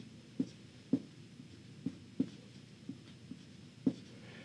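Marker or chalk strokes drawn on a board to sketch people, heard as a series of soft, irregular taps and scrapes at close range with no voice over them.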